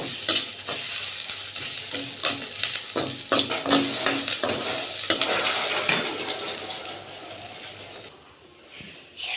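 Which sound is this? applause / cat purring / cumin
cumin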